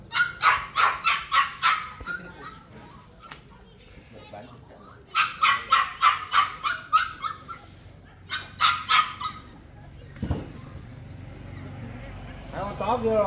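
Several dogs on a rural farm bark in repeated rapid bursts of sharp, close barks separated by pauses, with a short yip and whimpering near the end.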